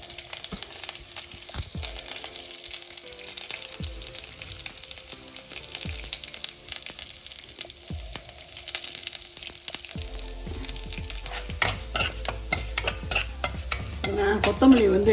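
Urad dal frying in a pan while being stirred, with a continuous hiss of oil and repeated scraping spatula strokes, growing busier and louder toward the end.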